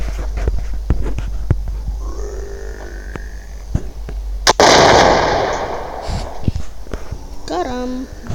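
A single sharp, loud sniper rifle shot in a zombie survival video game booms and decays over about a second, preceded by faint clicks and soft background game sounds.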